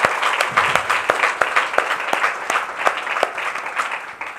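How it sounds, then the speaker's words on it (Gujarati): An audience at a satsang gathering in Pandiya Hall, Baroda, claps in a lively burst, with sharp individual claps standing out over a fuller crowd patter that gradually thins toward the end. "તાળીઓ પાડો બધા."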